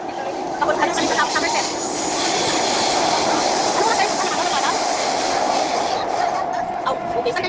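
An MRT train runs along its rails with a steady rumble and a faint rhythmic clatter, heard from inside the car. Some soft voices come and go under the running noise.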